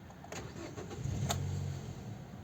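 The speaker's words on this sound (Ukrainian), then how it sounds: "Ідеально завівся автомобіль." A 2009 Mazda 6 with a 2.0 petrol engine starts: a short starter crank, then the engine catching and settling into a low, steady idle, close and alone.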